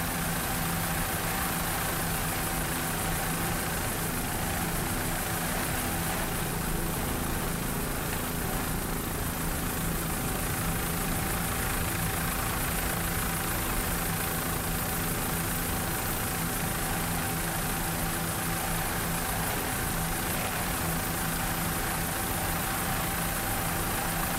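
An offshore racing boat engine roars steadily at the Daytona Harley-Davidson Offshore Grand Prix in Daytona Beach, a constant loud drone with a sustained tonal whine running the whole time and no talk.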